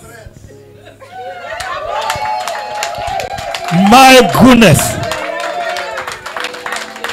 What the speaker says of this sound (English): Are you clapping or you are not celebrating?